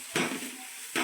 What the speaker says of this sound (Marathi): अशा पद्धतीने एकजीव करून घ्या.